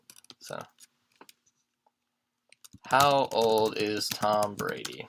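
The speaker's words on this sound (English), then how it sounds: "If you hear typing in the background, I apologize." Someone types on a computer keyboard close by, with sparse, soft clicking keystrokes at first, followed by someone talking in the foreground.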